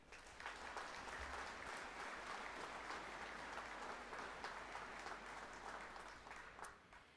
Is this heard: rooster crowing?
no